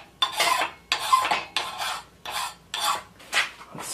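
A metal file rasping along an axe blade in repeated strokes, about seven bursts in a steady back-and-forth rhythm with short pauses between, close and crisp with no talking.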